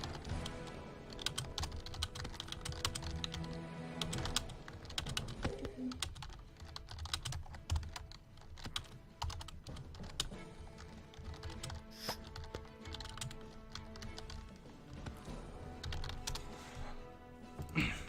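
Steady, close typing on a computer keyboard, with rapid irregular key clicks continuing without pause and no talking.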